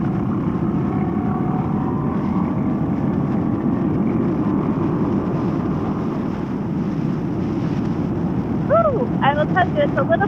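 Steady, loud wind buffeting a microphone while riding a motorcycle, a continuous broadband rush filling the whole stretch, with a brief tonal whistle or engine note rising near the end.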